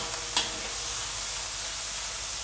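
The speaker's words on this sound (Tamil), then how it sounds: "ஸோ இதை போட்டு நல்லா வதக்கிக்கலாம்." Green chillies sauté in a pan, giving a steady hiss of frying with a brief sharp clink of a stirring utensil early on, faint and even throughout with no voices.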